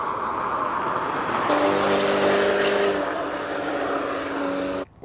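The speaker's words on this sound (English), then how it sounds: "And let's see if Dayan Padiachi can get one up on the GT3 of Sean McKay." Porsche GT3 race car at a hill climb, engine note rising in pitch as it accelerates past, fairly loud with a sharp onset and gear-change steps, no talk.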